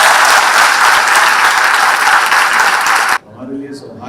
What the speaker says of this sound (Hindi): जरा जोरदार ताली दोनों के लिए